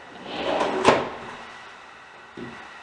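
Self-closing cabinet door or drawer in a remodeled bathroom, a soft sliding swoosh ending in a muted thud as it shuts, followed by a faint second knock, close and quiet with no voices.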